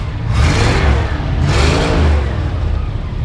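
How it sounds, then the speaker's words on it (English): A 1973 International Harvester 1210 4x4 truck engine revs up twice in loud, close bursts that swell and fall back over a steady rumbling idle, with no voices. "Rev it up a little bit."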